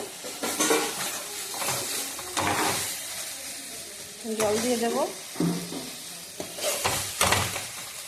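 Egg masala cooks in a pan as water is poured in, bringing a burst of hissing sizzle along with stirring and scraping of a utensil against the pan. A voice speaks briefly at moments over the cooking sounds.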